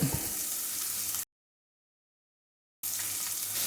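Onion, ginger and green chilli fry over full flame in a pan for a spinach dal, giving a steady hissing sizzle that cuts out into a brief silence before resuming.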